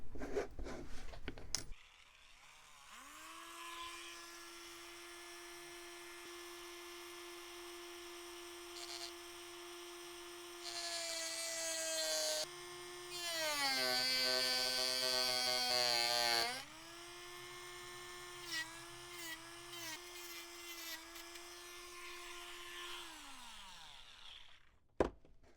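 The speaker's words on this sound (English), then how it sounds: "Okay, I'll just cut this little piece off now." Small rotary tool cutting off a short piece of tail wheel wire for a Balsa USA Smoothie RC plane kit, a close, steady high whine held for about twenty seconds and dipping in pitch as it bites into the wire.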